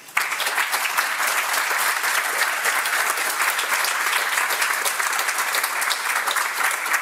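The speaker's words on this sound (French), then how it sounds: "je vous invite à applaudir Anne-Laure." Loud, dense audience applause after a conference talk, a continuous roar of many hands clapping at an even level from start to finish.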